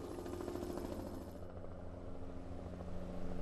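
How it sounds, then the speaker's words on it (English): Helicopter flying over a forest fire, a steady low rotor drone that is continuous and moderately loud, with no voices. "Is that a helicopter flying through the smoke?"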